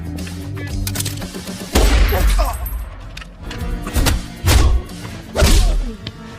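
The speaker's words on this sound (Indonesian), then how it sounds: "Sementara itu Bram CS terus beradu tembakan dengan 3 orang anak buah Anthony yang masih tersisa." A gunfight scene in a crime film: several heavy shots and thuds land in clustered bursts between busy, rumbling background action. The exchange is loud and close.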